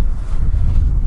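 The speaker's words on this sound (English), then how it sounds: "The wind is blowing." Outdoor wind buffets a microphone with a steady, loud low rumble throughout, alone without talk.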